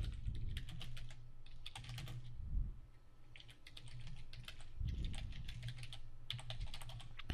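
Steady clicking of keys on a computer keyboard as a short comment is typed, bursts of close, crisp keystrokes separated by brief pauses and faint low background hum, with no voices.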